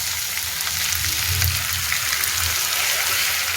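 Chopped tomatoes sizzling in a frying pan, a dense, constant hiss like rain on a surface, loud and close with no pauses.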